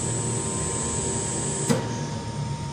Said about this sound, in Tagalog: Smooth running na din yung motor